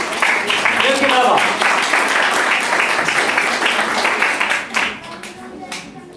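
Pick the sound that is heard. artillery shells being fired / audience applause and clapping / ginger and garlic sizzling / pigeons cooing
audience applause and clapping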